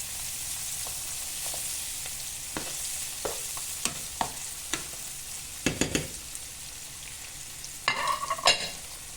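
Stirring and mixing ingredients in a pan over a faint frying sizzle, with scattered scrapes and clinks of a utensil, then a busier cluster of scraping strokes near the end, close with no talk.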